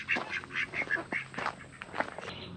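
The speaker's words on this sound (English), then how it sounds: "Hello, ducks." Ducks quacking on a farm property, a run of loud, close quacks in a rhythmic series, with no talk over them.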